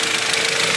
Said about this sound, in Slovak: Motor má inak takto pekný zvuk, nevyzerá, že by tam rokotala reťaz na ňom.